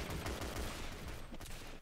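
Rapid, dense gunfire in a shooter video game, with bursts of overlapping shots crackling continuously at moderate loudness for the whole stretch.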